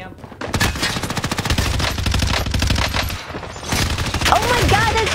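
Video game gunfire, with loud sustained automatic bursts of rapid shots and a few heavier blasts, close and continuous, with faint voices under it.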